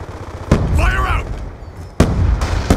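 Grenade blasts in the Black Ops 2 shooter hit as two sharp, loud bursts about a second and a half apart, with game voices and radio chatter between them.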